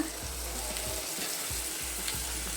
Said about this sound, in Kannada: ಈ ಥರ ಒಗ್ಗರಣೆ ಚೆನ್ನಾಗಿ ಸ್ವಲ್ಪ ಫ್ರೈ ಆದಮೇಲೆ ರುಬ್ಕೊಂಡಿದ್ವಲ್ವ ಆ ಮಸಾಲನ ಹಾಕ್ಕೊಳ್ಳೋಣ